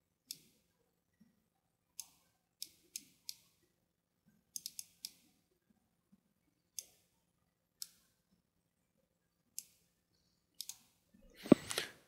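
A computer mouse clicks sharply and sparsely, with single and double clicks at irregular intervals in a quiet room. A louder rustle comes at the end.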